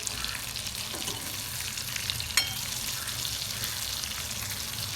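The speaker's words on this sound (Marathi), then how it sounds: "दोघाचे वांगे फ्राय करून घ्यायचे" Stuffed brinjals frying in a pan for a spicy masala gravy, a steady broadband sizzle running evenly throughout, with one brief sharp spatter near the middle; no voices.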